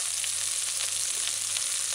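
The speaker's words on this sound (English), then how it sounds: "you just add the diced onions and scallions and stir for a little while and allow it to saute" Diced onions and scallions sauteing in a pan on a stove set to high heat, a steady soft sizzle with faint crackles, close and alone.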